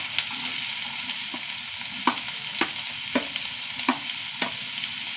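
Finely chopped onion frying in hot coconut oil in a pan gives a steady, close sizzle, broken by a series of sharp scraping stirs about every half second.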